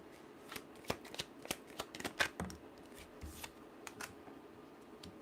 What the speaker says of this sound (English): one more shuffle and messages to clarify.